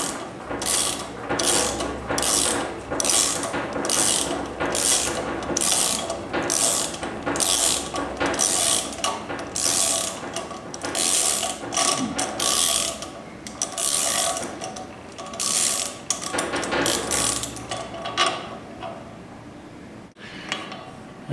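A ratchet backs a spark plug hole repair tool out of an engine head in quick, rhythmic bursts of metallic clicking, repeated about twenty times with short pauses between, close and clear with no talk.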